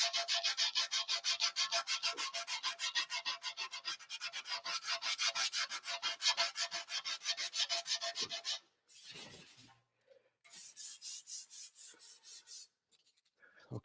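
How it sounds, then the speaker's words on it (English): Rhythmic scratchy rubbing of a sanding block on aluminum, steady back-and-forth strokes, pausing briefly then resuming more lightly. "I'm just controlling the sanding block"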